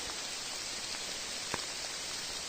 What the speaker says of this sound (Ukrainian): Такий файний дощ іде.